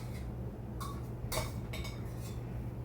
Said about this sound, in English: I just put it in a plate and serve them with a slotted spoon